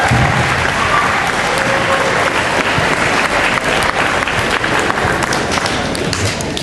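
Audience applause welcoming a speaker at a Central High School class of 2017 graduation address, steady loud clapping from a large crowd throughout, with no speech.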